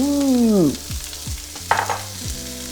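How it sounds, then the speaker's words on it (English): Onions added to leftover grease in a pan over medium heat, sizzling and frying steadily with occasional stirring clatter, close and loud. "Now I'm going to add the onions."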